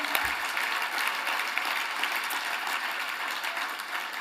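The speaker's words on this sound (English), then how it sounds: "I would love to give one more last round of applause for all our nominees" A crowd at an awards ceremony claps steadily and evenly, a dense patter of applause from a room full of people, with no voices.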